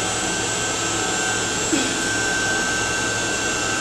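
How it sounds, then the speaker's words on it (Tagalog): Centralized air conditioning chiller plant running nonstop, a loud steady broadband roar with a constant high whine on top, heard close and without voices. "Ito, ito na ipakita ko naman sa inyo ay yung chiller. Medyo may ingay po doon"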